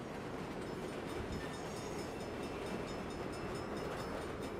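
A train rumbling past in the video game Saints Row (2022), a steady, continuous clatter and roar that holds at an even loudness for the whole stretch, with no voices over it.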